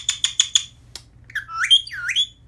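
A hormonal pet bird squawks up close: four quick, sharp shrieks in a row, a brief pause, then a couple of rising, whistly calls, with no talk.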